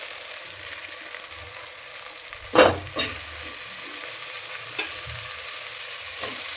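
Ginger garlic paste sautés in a pan for chicken biryani: a steady, soft sizzle runs throughout, with two louder stirring scrapes near the middle and a few lighter taps later.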